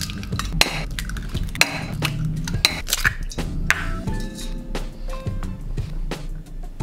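Eggs go into a bowl for a Japanese omelette, heard as a series of sharp clinks and taps of shell and utensils against the dish, close and distinct, with some stirring between them.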